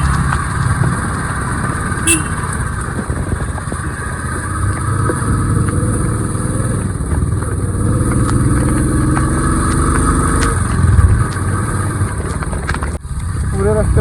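A Bullet motorcycle rides on a rainy mountain road with a steady low engine thump under constant wind and rain noise, while someone talks over it throughout.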